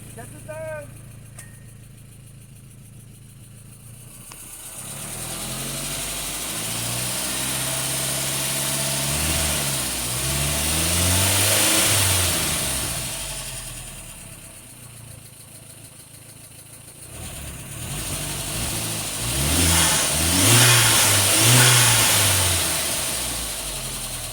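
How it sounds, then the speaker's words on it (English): A 2002 VW Passat 1.8T turbo engine revs in two swelling bursts, rising and falling with some turbo whoosh, close by with a voice talking in between. "She makes good turbo noises."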